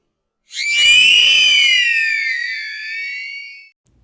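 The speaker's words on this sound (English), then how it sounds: "the juvenile, letting out a shrill scream like that of a human child" A single long, shrill, piercing scream from a juvenile dinosaur in a horror story, loud and close, rising then slowly wavering down over about three seconds before cutting off.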